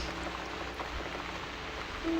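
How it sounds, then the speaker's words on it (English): Steady rain falling in the video game The Cat Lady, a soft, continuous patter of drops at even loudness throughout, with no speech over it. "What a relaxing afternoon in the rain."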